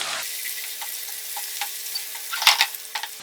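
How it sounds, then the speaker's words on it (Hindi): Finely chopped ginger and green chilies fry with onion in a pan for dosa potato masala, producing a steady close sizzle with scattered spoon scrapes and a louder burst of crackling toward the end. "साथ ही हम अदरक और हरी मिर्च डाल देंगे जो कि हमने बारीक चॉप कर ली है, इसको भी भून लेंगे"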